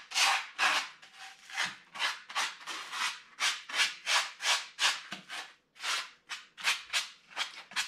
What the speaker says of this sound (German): mit dem Schleifschwamm über alle Stellen drüber gehen